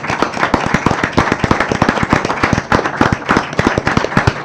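Audience applause at a foreign trade gathering, a smaller crowd clapping with distinct, sharp individual claps in a quick uneven rhythm, close and loud for several seconds.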